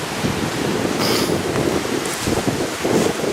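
Strong wind blows across Weyakwin Lake, a loud, steady roar of gusts buffeting the microphone with wave wash beneath, swelling slightly at moments and with no voices.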